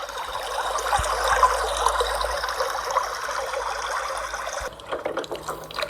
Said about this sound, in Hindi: लिंगमाला वाटरफॉल, जो समुद्र तल से 1278 मीटर की ऊंचाई पर अवस्थित है।